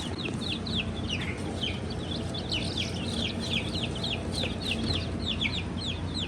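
Young Barred Rock and Easter Egger chicks peep and cheep in a busy, continuous chorus of high chirps over a low rustling background, close by and moderately quiet, with no talking.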